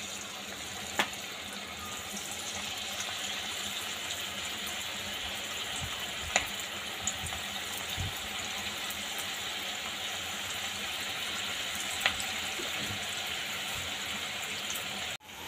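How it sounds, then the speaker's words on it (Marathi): Veg manchurian balls deep frying in hot oil, a steady broadband sizzle and bubbling throughout, close and even, with a few brief clicks of utensils and no talking. "आता आपण ह्यामध्ये मंचुरियन सोडून घेऊया"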